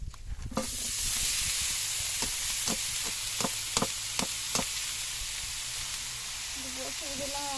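Food sizzles steadily on a clay stove, near and close, with a run of sharp utensil taps and stirring knocks over the hiss, and a brief voice near the end.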